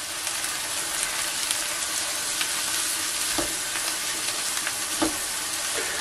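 Garlic and bacon sizzle steadily in a hot pan, a dense close crackle with a few soft scrapes of stirring, no talk.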